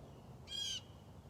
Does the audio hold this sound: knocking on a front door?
no